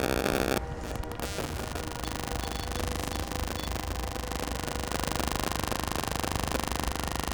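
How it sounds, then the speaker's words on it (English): Harsh, continuous radio static from a spirit box sweeping through channels inside a reputedly haunted old Texas jail, loud and unbroken, with choppy bursts at the start settling into a steady hiss and hum. "Really checking out the spirit box."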